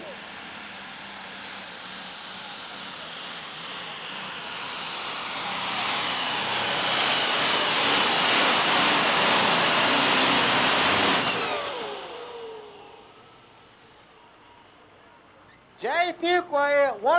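A super stock pulling tractor at a 1996 USHRA pull in Tennessee roars with a rising, sustained engine howl for about eleven seconds, then cuts off to a low rumble before a burst of distant crowd or announcer sound.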